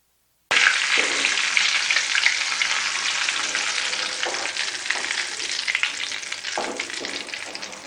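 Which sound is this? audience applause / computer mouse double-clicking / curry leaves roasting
curry leaves roasting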